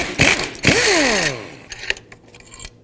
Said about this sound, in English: Now remove these two 14 millimeter bolts.